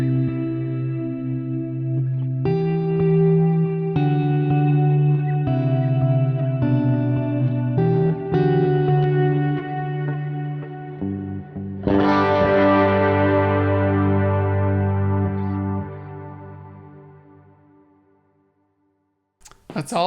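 An electric guitar runs through a worship pedalboard with delay and reverb in stereo, sustained chords shifting every second or two, then a final strummed chord ringing out and decaying into long echoing tails before silence.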